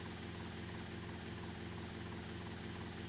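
Helicopter in GTA Vice City flying continuously, a steady loud rotor and engine drone filling the whole stretch with no talk.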